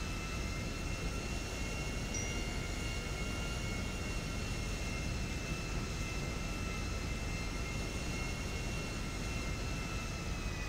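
Airplane engine in the game GTA V during a brief takeoff and landing on an airport runway: a steady, loud, broadband roar with a constant whine that holds without a break for about eleven seconds.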